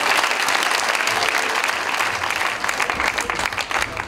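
A live concert audience at an Armenian show breaks into dense, sustained applause that fills the hall continuously and loudly, with no speech over it.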